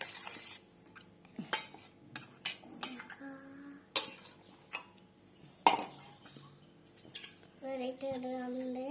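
Spoon clinking and scraping inside a bowl while mixing salt into an ingredient, with irregular close taps and stirs spaced through quiet stretches, plus brief faint voices in the background.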